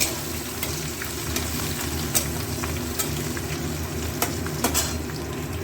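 Steady loud sizzle of cabbage frying in a pan as ginger and green chili are stirred in, with intermittent spatula clicks and scrapes against the metal; no speech.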